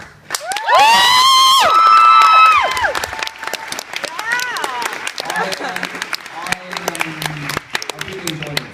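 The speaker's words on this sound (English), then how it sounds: "I think that, deserves another round of applause." Audience at a speech event gives another round of applause with cheering and whoops, opening with a loud burst of shouts and whistles, then settling into scattered clapping and voices chattering in the crowd.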